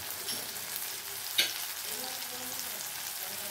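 Onions stirred and fried together in a pan, a gentle steady frying hiss with one sharper clink of a utensil partway through, quiet and close, without talk.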